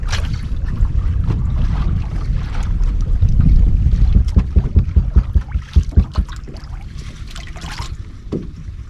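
Wind gusting across a lake around a fishing boat, a steady broadband rush that swells and peaks midway, with scattered knocks and splashes against the hull nearby and no talking.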